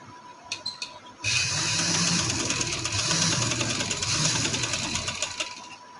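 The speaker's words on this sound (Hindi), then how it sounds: "या मैं सिलाई लगाना शुरू कर रही हूँ।" Sewing machine stitching trouser fabric, a few short taps followed by a steady, close, continuous run of rapid stitching that carries on for several seconds.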